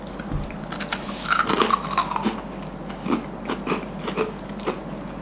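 Crispy French-fry-style potato snack from a packet being chewed close up, a run of crunchy bites and mouth noises, loudest early, then softer irregular crunches.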